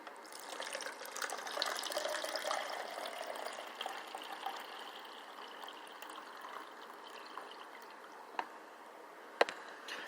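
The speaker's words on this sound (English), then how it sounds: "I was pouring myself some cold brew." Cold brew coffee is poured at home in a faint, steady liquid trickle, which thins toward the end before a couple of small sharp clinks.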